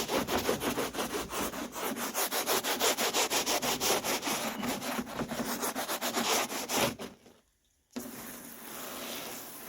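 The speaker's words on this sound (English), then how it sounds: "May as well scrub the backside a little bit." Rapid back-and-forth brush scrubbing on the backside of a new-old-stock wire wheel cover for a 1977 Ford LTD, loud and steady for about seven seconds before a short pause, then softer rubbing resumes.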